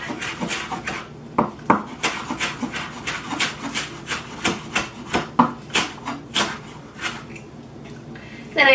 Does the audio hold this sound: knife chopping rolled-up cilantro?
yes